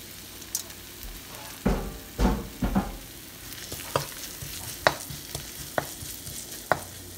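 Onions and green chillies fry in oil in a pan, a soft constant sizzle broken by sharp scraping clicks from stirring, close and at irregular intervals.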